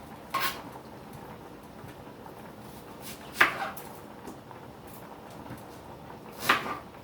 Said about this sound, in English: So I'm chopping up a 1/2 of a small onion